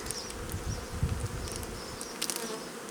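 A dense, steady hum of many honeybees buzzing close by around an Alpine hive, with individual bees droning past now and then.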